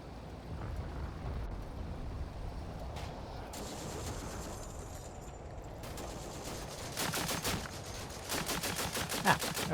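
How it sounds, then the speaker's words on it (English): Machine gun fire in the Combat Mission: Afrika Korps game, at the Gallabat battle, sounds as rapid rattling bursts, sparse early and then dense clusters of sharp shots toward the end, over a low rumbling background. "That was this machine gun."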